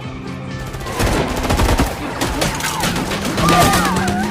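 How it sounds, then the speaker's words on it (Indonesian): Rapid gunfire fills a gang shootout between two criminal groups in an action film, dense overlapping shots and bursts cracking continuously and loudly for the whole stretch. "sang putra tewas tertembak ketika dua kelompok penjahat sedang baku tembak"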